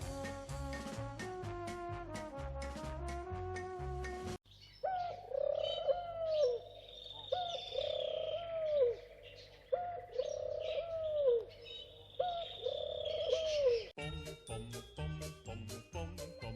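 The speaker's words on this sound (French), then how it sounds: "Un élevage de colombes." Doves in a breeding aviary coo in repeated, evenly spaced rolling calls with chirps mixed in, close and clear, set between stretches of tinkling music.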